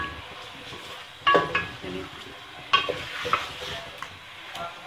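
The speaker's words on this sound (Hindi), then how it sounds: "इसे हल्का सा फ्राई करना है" Chicken fries lightly in a pan over medium heat under a soft, steady sizzle, while a spoon clinks and scrapes against the metal in several close, distinct strokes.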